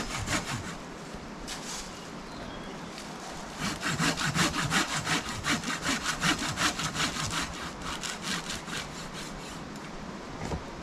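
A hand saw cuts through a tree trunk being felled at a woodland bushcraft camp. Rhythmic back-and-forth rasping strokes come close and steady, speeding into a quicker run of strokes midway, with no talk.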